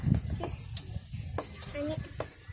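Avocado graham bar ingredients stirred together in a bowl, with steady scraping and mixing strokes and a few light clinks of utensil against the dish, close by with voices in the background.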